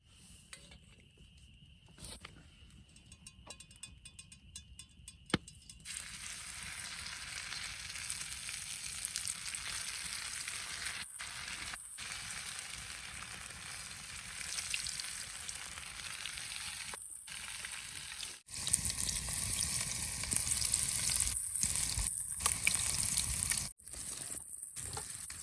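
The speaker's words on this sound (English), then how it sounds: "So we have northern right here. Our oil's heating up" Northern pike fries in hot oil over a campfire with a steady, close sizzle that rises loudly after a quieter start. The crackle keeps up, with brief breaks and a few soft clinks.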